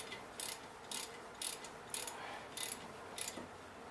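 A hand ratchet tightens the brake caliper bolts on a 2007 Chrysler 300C, a quiet close series of six or seven evenly spaced clicking bursts.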